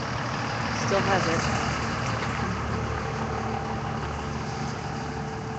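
A noisy truck idles outside City Hall, its steady, loud engine rumble droning without pause throughout while a person talks over it.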